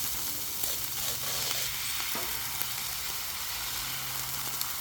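Scrambled eggs sizzle steadily on a Blackstone flat-top griddle cooking chicken hibachi, a continuous close frying hiss with faint scrapes and taps now and then.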